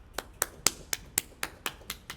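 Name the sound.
class applause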